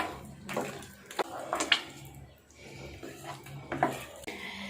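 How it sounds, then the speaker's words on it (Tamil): Wheat halwa with ghee and cardamom is stirred in a pan, a spoon scraping and clinking against the metal in uneven strokes, with soft wet smearing sounds between the knocks. "மீதம் இருக்கிற நெய்யை சேர்த்துக்கலாம். சேர்த்துட்டு நல்லா கலந்து விட்டுக்கோங்க."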